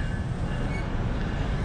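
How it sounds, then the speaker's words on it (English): A train at Highland Avenue station in New Jersey on the line from Newark, a loud, steady rumble of rolling wheels and carriages close by. "I just got off the train coming from Newark"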